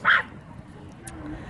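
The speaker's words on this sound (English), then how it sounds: "Suddenly, a dog barked." A dog gives a single short, loud bark right at the start, then only low background noise remains.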